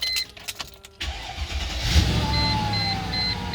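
A 2003 Mercedes-Benz ML500 with water damage is switched on, giving a clicking start followed by a steady low engine hum, with a faint rising whine and intermittent high beeps over it.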